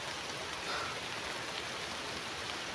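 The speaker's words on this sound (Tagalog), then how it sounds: "Sobrang basa kasi lakas ng ulan ito mga idol." Heavy rain falls steadily and loudly as a dense, continuous hiss of drops on surfaces, with no voices, unbroken for the whole stretch.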